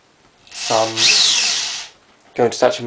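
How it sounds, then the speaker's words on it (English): A power drill bores holes in a wooden spacer for a Polaroid 900 conversion: a close, loud whirring burst with a rising buzz and a grinding bite into the material, followed by a short second whir. "all I'm going to do is I'm going to drill the holes"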